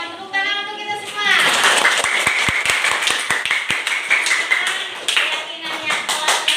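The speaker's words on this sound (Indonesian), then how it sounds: "Tepuk tangan untuk kita semua." A group of people clapping hands together, starting with a few distinct sharp claps that build into lively applause, with voices talking at the start and a voice amid the noise.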